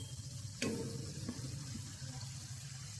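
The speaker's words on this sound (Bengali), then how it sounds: "এবার জল দিয়ে দিচ্ছি" Water poured into a pan of oil-fried spice paste for a Bengali besan (gram flour) vegetable curry: a sudden splash at the start, then a soft, steady pour and bubbling that stays fairly quiet. No one talks.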